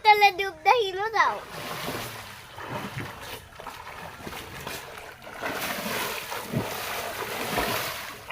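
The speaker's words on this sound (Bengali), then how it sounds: "এখানে গাটা ঠান্ডা করার জন্য এই সাঁতরিয়ে গোসল করলাম" Water splashes and sloshes as someone swims and bathes in a pond, a close wash of watery churning with a voice speaking briefly at the start.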